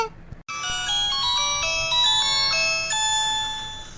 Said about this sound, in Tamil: ஓ காட் இது யார் இப்ப ஃபோன் அடிக்கிறது